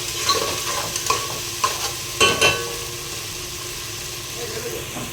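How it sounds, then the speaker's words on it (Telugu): Ginger garlic paste frying for biryani, giving a dense close sizzle with several scraping strokes of a spoon against the pan, under a steady low background hum. "ఇందులోనే కొద్దిగా అల్లం వెల్లుల్లి పేస్ట్ ఇది మాడకుండా బాగా ఫ్రై అవ్వాలి"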